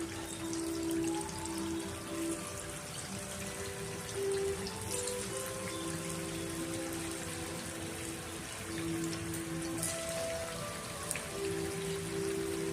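Veg Manchurian balls drop one by one into hot oil on a medium flame, giving a continuous crackling, patter-like sizzle that stays close and fairly even throughout, with no talking.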